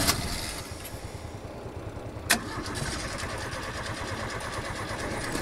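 A Fiat 147 engine runs at a steady idle, with a sharp click partway through and a continuous mid-pitched hum.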